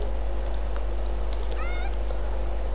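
In Fortnite, a cat gives a short, clear meow of rising and falling pitch over a steady low background hum.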